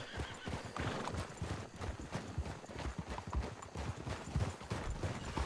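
Horses in a video game clop their hooves in a busy, uneven rhythm and whinny now and then, several animals moving close by at a fairly quiet level with no talk over them.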